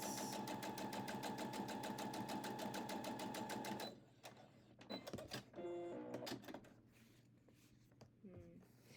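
Sewing machine stitching a scant quarter-inch seam on a scrappy quilt block, a fast even whirring rattle for about four seconds, then stopping, followed by quieter handling noises and a voice speaking.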